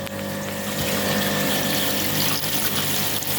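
A powerful aquarium air pump drives air through a blue air stone in the corner of a large dovii cichlid tank, producing a steady, loud, close hum and hiss of aeration that continues unbroken for the whole stretch.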